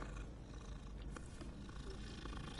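A cat purrs while being petted in a Hogwarts video game, a soft continuous rumbling purr that is close and steady throughout, with faint background game ambience.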